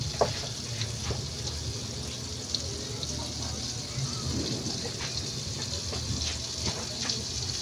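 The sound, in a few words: sautéing adobo with dairy cream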